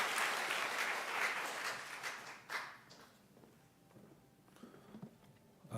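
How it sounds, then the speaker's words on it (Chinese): Warm applause from a congregation at a thanksgiving service for a pastor's installation rises briefly, then fades after a few seconds into a quiet room with scattered faint taps and movement. "请大家咱最后以同热烈掌声归荣光互咱上帝"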